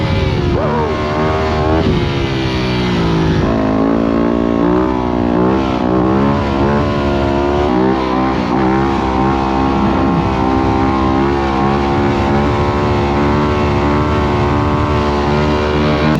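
A motocross bike revs hard and holds a long wheelie in fourth gear on a ride to the beach. The engine note stays loud, close and continuous, rising and falling in pitch as the throttle changes.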